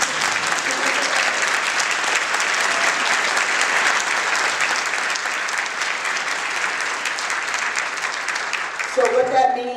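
Steady applause from an audience at a Cincinnati streetcar town meeting, sustained and fairly loud, with a voice starting to speak right at the end.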